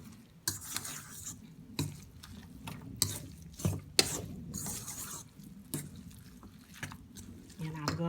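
A spoon scrapes and stirs through a mackerel patty mixture with a little olive oil, giving repeated rasping strokes at a moderate pace while a person talks over it.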